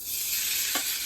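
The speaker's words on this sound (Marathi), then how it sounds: "साजूक तूप टाकला, त्याच्यामध्ये आता ड्रायफ्रुट्स" Dry fruits fry in ghee with a close, steady sizzle, broken near the end by a brief scrape of stirring.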